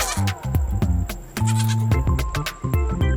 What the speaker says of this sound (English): G for goat. Goat.